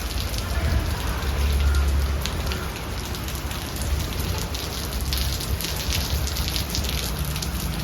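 Steady heavy rain pours down with a constant hiss, gusts of wind roaring underneath throughout, during Cyclone Fengal in Chennai.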